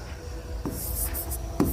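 Pen writing A1, B1, C1 on paper while working a class 10 maths problem: short scratchy strokes, a quick tap near the start and another near the end, close and clear over soft background noise.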